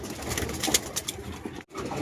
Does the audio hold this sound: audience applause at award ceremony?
no